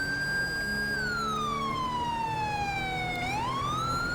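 A police car siren wails in GTA 5, a loud, close electronic tone holding steady, then sliding slowly downward before sweeping sharply back up, running continuously over traffic noise without speech.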